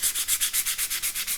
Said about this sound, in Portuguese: a gente ainda precisa lixar, acompanhando também o mesmo sentido, né, que eu apliquei